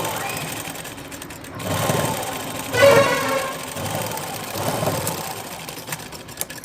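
Sewing machine stitching a frill frock, running in several short bursts that rise and fall over a faint background, with quiet pauses between the runs.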